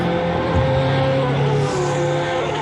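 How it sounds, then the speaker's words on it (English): Race car engines in the sim racing game Assetto Corsa, an IMSA 24 Hours of Daytona virtual event, drone steadily and loudly with shifting engine tones throughout. "love the sound of these cars."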